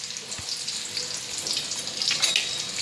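Onions sizzling and frying in a pan, a steady close crackling hiss with occasional pops and soft stirring.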